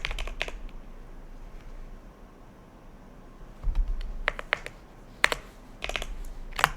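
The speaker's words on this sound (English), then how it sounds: "let me type it in the chat" Sparse keystrokes on a fancy computer keyboard with a creamy sound, clicking in short irregular bursts against a quiet room, with no one talking.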